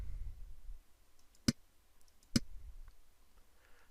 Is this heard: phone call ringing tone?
no